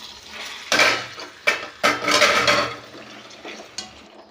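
Tomatoes are stirred in a cooking pan for a tomato drumstick curry, a spoon scraping and clinking against the metal in several uneven bursts, close and fairly loud with brief pauses between strokes.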